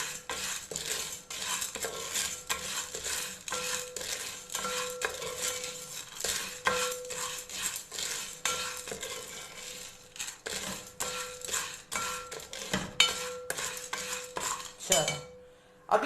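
Popcorn kernels stirred in a metal pot with a utensil, giving continuous close scraping and rattling with small clinks throughout, no voices.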